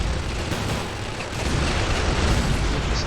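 Turret firing in an Ork assault video game: dense, continuous artillery-like booms and gunfire blasts, loud and sustained with a heavier surge in the second half, no speech.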